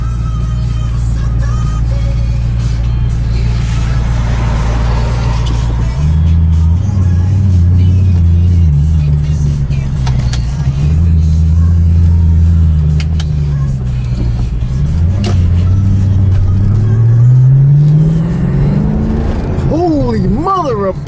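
Maserati car engine idling with a low steady drone, then running and revving up in rising, falling surges, loud and close, ending in a climbing rev; someone talks over it.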